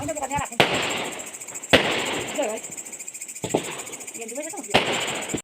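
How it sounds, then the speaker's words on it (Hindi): Diwali firecrackers burst outdoors at night, four sharp, loud bangs spaced roughly a second or more apart, each trailing off with a crackle, over a faint background of insects chirping and people talking in between. "यहाँ पे पटाखे फूट रहे थे"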